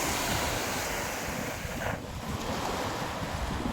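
Strong ocean waves surge at Manila Bay's Dolomite Beach on a windy day, a continuous loud roar of surf mixed with heavy wind buffeting the microphone, with no voices.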